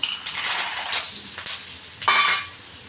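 Chana dal frying in hot oil for lemon rice, a close, crackly sizzle with a few bursts of louder spitting and a brief stir-like scrape near the end, no talking.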